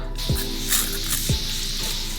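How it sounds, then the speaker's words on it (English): Soft hissing Evian facial mist sprays, about three quick puffs spaced roughly a second apart, close by with no talking. "I'm gonna use a facial spray"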